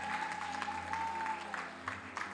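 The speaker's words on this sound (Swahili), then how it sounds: "Hebu piga makofi kwa Yesu Kristo" A church congregation claps briefly during a sermon, a short burst of applause over a steady low hum and a faint sustained tone.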